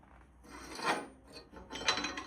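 A metal part from a saltwater-damaged Kubota engine is ground by hand in two short rasping strokes, close and fairly quiet.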